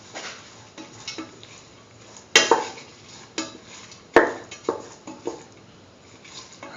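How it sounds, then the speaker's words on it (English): Curried lentil and egg stew is stirred in a pan, a utensil scraping and clinking against the metal with a few sharper knocks over a soft background sizzle, heard close with no talking. "Keep on mixing."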